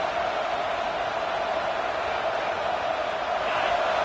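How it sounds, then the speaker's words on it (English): A dense, steady roar of a large football stadium crowd fills the space, loud and sustained without a break, swelling slightly toward the end. "Listen to this crowd just shaking the girders of this place trying to help their defense."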